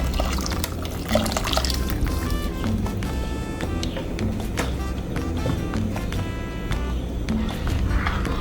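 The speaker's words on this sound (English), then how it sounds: "add just a little bit more water into the blender and put it into the broth again" Water pours and splashes into broth for Mexican red rice close by, with a bubbling, gurgling sound lasting several seconds and no talking.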